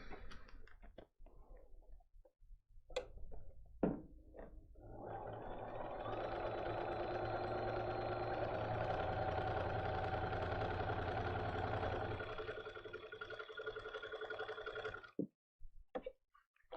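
A sewing machine stitches paper-pieced fabric in one steady run of about ten seconds, a whirring hum with fine rapid clatter, framed by soft handling clicks and rustles before and after.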